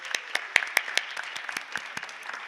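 Sparse, fairly quiet clapping from a holiday concert audience for the soloists, individual claps distinct and irregular rather than a dense roar, fading slightly toward the end.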